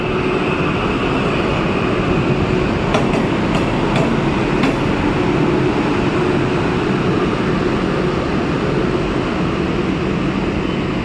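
A railway locomotive runs past at Santragachi station, a loud continuous rumble and roar filling the platform with a few faint metallic clicks partway through.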